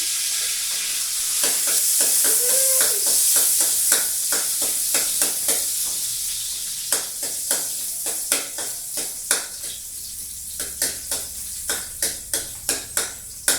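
Garlic, onion and tomato sautéing in a hot pan, giving a loud constant hiss and sizzle near the mic, with a regular run of spatula scrapes and taps that quicken toward the end.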